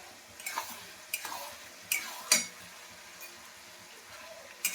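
A spoon scrapes and stirs chili chicken in a frying pan with green and dried red chilies and salt. A few distinct scraping strokes sound over a soft, steady sizzle.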